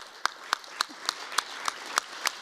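Sparse audience clapping at a human rights forum, a handful of distinct claps spaced at a steady slow rhythm, moderately distant in a large room.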